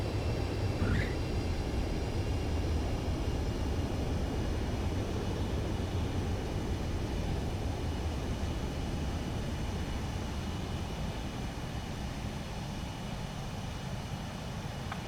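An F-16C jet landing in the Ace Combat 7 video game, a steady loud engine roar with rumbling low end that holds throughout and eases slightly near the end.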